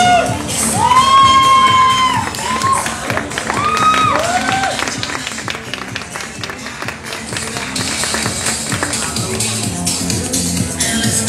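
An audience at a queen pageant for the Fiestas Patrias in Colotlán, Jalisco, applauds a candidate with mixed clapping, whoops and shouts, loud at first and then easing into a steadier, thinner patter.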